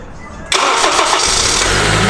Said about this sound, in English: We're gonna start the car and then let it idle so it can go ahead and take all the air out of the system.